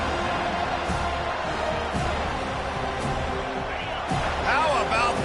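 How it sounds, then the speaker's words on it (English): Continuous roar of a stadium crowd cheering at a football game in the Campus Legends video game, loud and steady with a few sharp thuds, with a voice talking over it. "How about this crowd rattling the rafters and trying to help their defense?"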